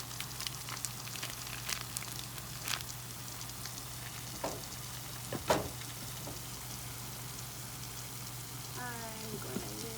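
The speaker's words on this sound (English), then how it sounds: "I'm gonna mix it." Asparagus and garam masala stirred in a hot frying pan, a steady close sizzle with scattered clicks and scrapes of the spoon against the pan.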